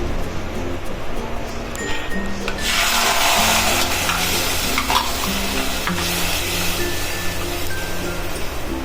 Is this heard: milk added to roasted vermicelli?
yes